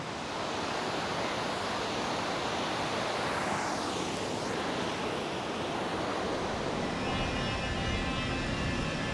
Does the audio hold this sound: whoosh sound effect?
no